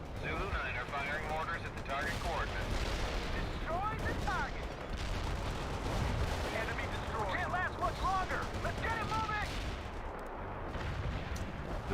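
Artillery barrage in the video game World in Conflict, a constant rumble of booms and gunfire with battle chatter and radio voices layered over the explosions.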